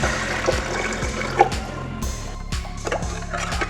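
Water poured from a measured tumbler over rice with fenugreek and garlic for porridge, splashing and gurgling close up in uneven bursts with a few sharp clinks of the vessel.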